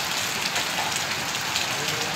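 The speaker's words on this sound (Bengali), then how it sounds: "প্রচণ্ড বৃষ্টির কারণে কুয়াশার সৃষ্টি হয়েছে।" Heavy rain pours down in Shariatpur, Bangladesh, making a dense, steady hiss of drops on surfaces that holds at an even, loud level throughout.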